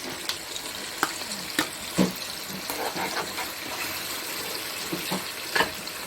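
Yogurt is stirred into a frying mutton karahi masala, a soft, steady sizzle under scattered close scrapes and clicks of a spoon against the pan.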